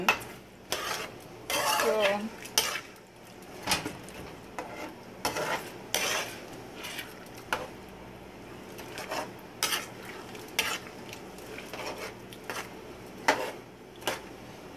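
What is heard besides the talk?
stirring tomatoes cooking in pot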